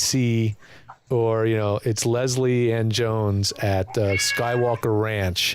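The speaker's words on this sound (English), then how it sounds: "Sorry, that's my cat." A house cat meows repeatedly in long, drawn-out, close-up cries, several meows in a row with a brief gap of talk near the start.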